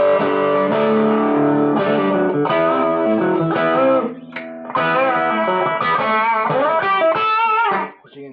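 Electric guitar played through an MXR Custom Badass '78 Distortion pedal set low on distortion with output raised for an overdrive tone, loud chorded strums and sustained notes with a couple of brief pauses and a fade at the end.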